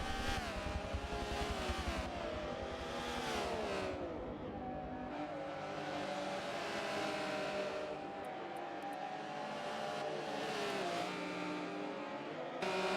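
A Porsche Carrera GT races in Forza Motorsport 7, its engine note rising and falling continuously through revs and gear shifts, fairly quiet throughout.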